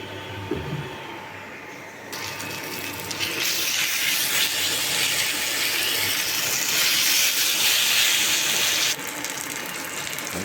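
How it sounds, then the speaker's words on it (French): Meat hits a hot pan for Mauritian fried rice and starts to sizzle, a steady close hiss that swells after a couple of seconds, holds loud and even, then eases slightly near the end, with no talking. "Je mets ma viande en cuisson."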